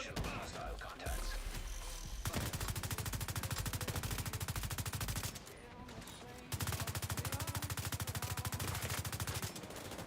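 Rapid automatic gunfire crackles in The Division 2 video game, in two long dense bursts separated by a brief pause, loud and continuous, with faint in-game voices beneath.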